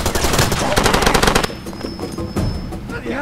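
Rapid bursts of M249 light machine gun fire in the video game Far Cry 2, a dense rattling stream for about a second and a half, then scattered shots and game noise under faint voices.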